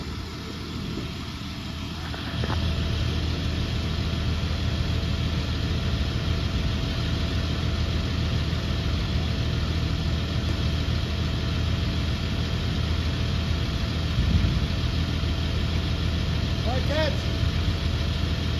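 A motor runs steadily during removal of a bald-faced hornet nest outdoors, a continuous loud engine drone that starts quieter and swells after a couple of seconds, then holds evenly throughout.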